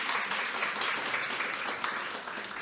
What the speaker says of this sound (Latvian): klātesošie apliecina ar saviem aplausiem jums